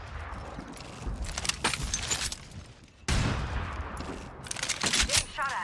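Bursts of video game gunfire in a shooter, rapid shots in clusters with a loud onset near the middle, alongside clattering effects and occasional voice chat.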